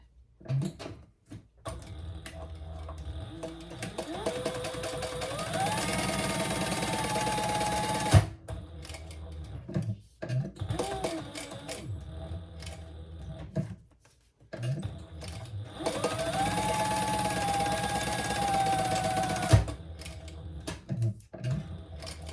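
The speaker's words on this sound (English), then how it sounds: "So I'm going to stitch down either side." A sewing machine stitches down both sides of a messenger bag in two long bursts of steady, fast whirring, broken by short pauses and soft handling noises.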